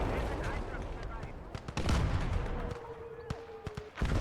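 Tank and artillery fire in the Gates of Hell: Ostfront game, a dense battle soundscape of booming shots and rumbling explosions with sharp cracks scattered throughout, while a voice talks over the din.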